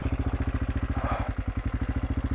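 Enduro motorcycle engine idling steadily with a fast, even low thump on a rocky Italian trail, close and fairly loud with nothing else over it.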